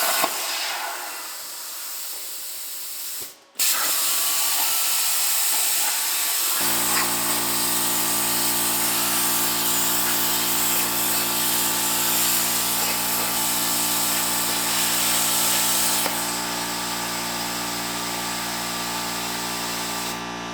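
A home-shop CNC plasma table cuts metal at 35 amps and 70 psi, a loud, steady hissing roar with a strong constant hum that kicks in a few seconds after a brief pop and runs continuously to the end.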